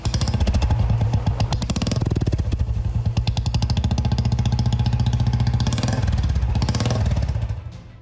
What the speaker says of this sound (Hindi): किसी के बुलेट से ब्लास्ट जैसी कुछ इस तरह आवाज निकली